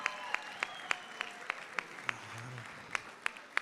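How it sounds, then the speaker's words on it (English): Audience at a Crohn's & Colitis Foundation charity gala gives a round of applause, a dense sustained patter with distinct sharp claps standing out at a regular beat, a brief low murmur partway through. "Let's give him a big round of applause,"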